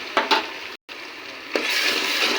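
Fried onions mixed with ginger garlic paste, with a soft steady sizzle and a few stirring scrapes, one of them sharp, and a brief silent gap in the middle.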